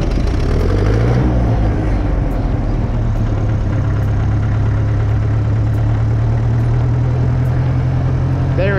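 A vintage grey and gold Ferguson tractor engine cranks and fires into a steady, loud, low chugging idle that runs continuously throughout.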